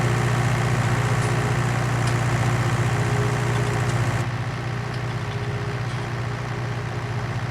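Tractor engine idling in the Farming Simulator 19 video game, a steady low droning rumble held at an even level throughout, slightly softer in its second half, with no talk over it.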